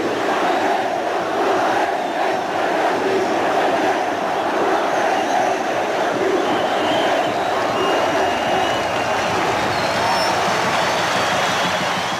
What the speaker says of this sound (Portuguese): a multidão aplaudiu longamente